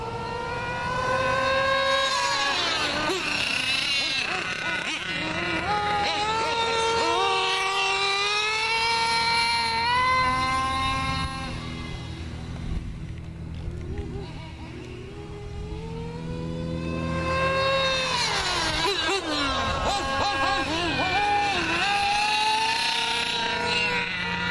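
Nitro RC car engine screaming at high revs and topping out, loud and sustained with rising and falling whine across two long bursts, dipping briefly in between.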